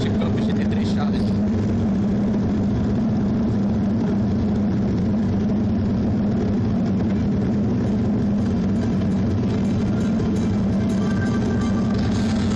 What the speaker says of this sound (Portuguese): Preparação para a volta de apresentação da Porsche Cup GT3 Challenge.